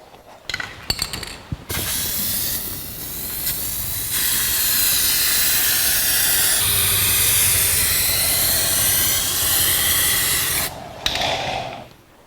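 Steady hiss of a spray gun laying the final base coat into the wheel well of a 1982 Jeep CJ7 tub, starting with short bursts and then running continuously and close for about nine seconds before cutting off.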